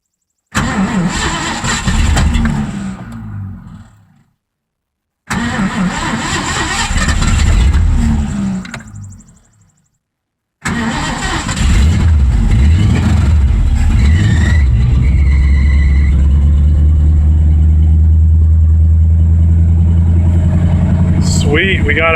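A carbureted Ford 302 V8 swapped into a Mazda RX-7, with gas-thinned oil, cranks in two short bursts, then catches and settles into a loud, steady, rumbling idle.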